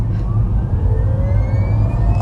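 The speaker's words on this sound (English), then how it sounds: "this one feels still pretty controlled, even under full throttle acceleration" A 2027 Rivian R2 electric SUV launching at full throttle in sport mode: a loud low road-and-wind roar with a rising whine building steadily over a couple of seconds.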